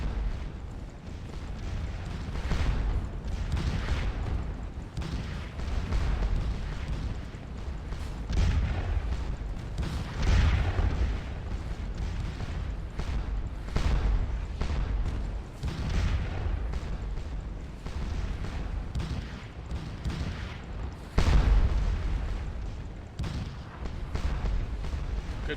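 Repeated booming cannon fire from the Waterloo battle game Scourge of War, with heavy irregular reports rolling over one another through a sustained barrage, no voices.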